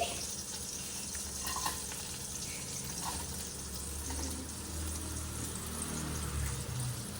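Chopped onions dropped into melted butter in a pan, a steady close sizzle and hiss of frying that holds evenly throughout with faint stirring underneath.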